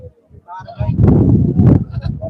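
A goat bleats loudly and nearby at a goat market, a wavering cry following a few softer sounds at the start.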